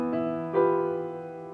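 A piano chord voiced as a pop-style shape rooted on E rings out as a sustained stack of tones, with a second strike partway through that swells the sound before it slowly decays, no voice over it.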